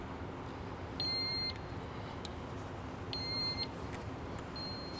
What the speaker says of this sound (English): Acknowledge the air motor position sensor alarm on the ADM